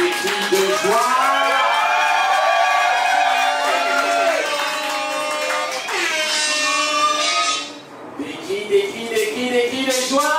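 Wedding guests at a church ceremony shout and cheer with joy, a dense crowd of high voices and whoops that briefly dips before swelling again.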